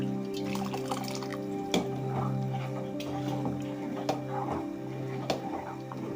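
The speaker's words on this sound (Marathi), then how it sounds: "गरम पाणी घेऊन हे भांड असं विसळून घ्यायचं आणि याच्यामध्ये घालायचंय." Hot water is swirled around a pot to rinse it and then poured into a cooking vessel while making jowar papad, giving soft trickling and dripping sounds with scattered light clinks over a steady background hum.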